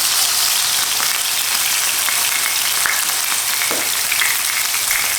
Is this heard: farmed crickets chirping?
no